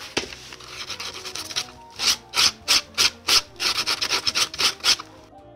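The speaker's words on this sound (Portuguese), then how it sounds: "agora sim vou dar uma lixadinha" Sandpaper rubbing over dried filler on a handmade cardboard box drawer, starting with soft continuous scraping and then a run of about a dozen loud, rhythmic strokes at close range with no talking.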